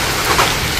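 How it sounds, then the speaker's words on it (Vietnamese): Heavy rain pouring down during tree felling, a dense, steady hiss of water hitting surfaces, loud and close, with no voices heard. "Mưa lớn rồi."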